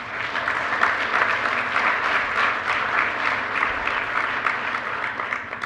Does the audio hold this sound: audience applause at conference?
yes